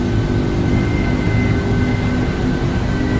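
An aircraft in the Eurofly 2 flight simulator game roars at high speed with a steady, loud engine drone and faint tonal whine throughout.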